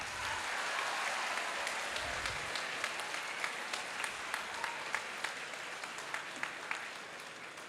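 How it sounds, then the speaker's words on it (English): Sustained applause from an audience at the KIT'S 2025 Knowledge, Innovation & Talent Acquisition Summit, a dense steady wash of many hands clapping with a few sharper individual claps standing out, loud throughout the whole stretch. "Can I request all of you to give me a huge round of applause?"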